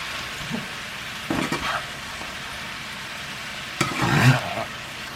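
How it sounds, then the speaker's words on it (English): Pork belly and bean sprouts sizzle steadily in a pan over a low background hiss, with two louder bursts of stirring and scraping about midway and near the end. "Stir real good, okay?"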